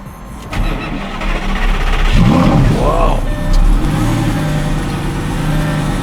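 A Lamborghini special edition engine starting close up, a starter whir followed by a loud catching roar and rising revs, then settling into a deep rumbling idle, with people talking over it.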